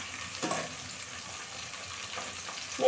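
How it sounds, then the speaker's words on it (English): Iru, fermented locust beans, frying in oil in a pot for vegetable soup, a low steady sizzle with a brief louder burst near the start and a rise at the end. "So you let it fry for some time."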